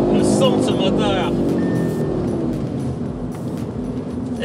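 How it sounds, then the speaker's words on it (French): An Audi RS3 engine revs on the Megara race circuit in dynamic drift mode, a steady rising drone that sits under someone talking throughout. "le son de ce moteur"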